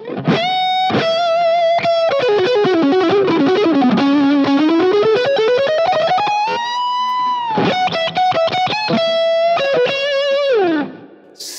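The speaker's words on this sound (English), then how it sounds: "now I've got the gain almost maxed out on this little amp model" Electric guitar through an amp model with gain almost maxed out plays a sustained, saturated melodic line with gliding bends and fast picked runs, loud and up close, then a final held note cuts off.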